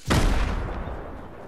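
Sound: gunfire in a video game

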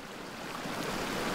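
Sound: stream flowing in a canyon

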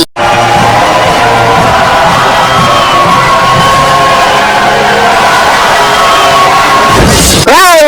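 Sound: crowd clapping and cheering

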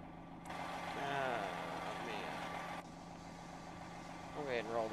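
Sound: truck engine idling in video game American Truck Simulator

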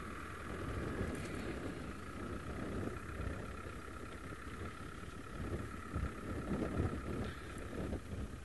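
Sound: strong wind

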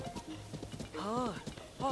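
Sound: horse hooves galloping in video game

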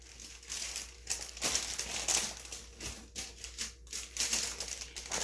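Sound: crinkling of packaging

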